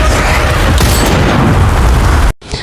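A rifle shot from a film sniper duel fires at long range, a heavy booming blast that rolls on for over two seconds before cutting abruptly to quiet.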